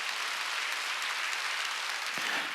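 A church congregation claps continuously in a steady, dense wash of applause that fills the room without pause.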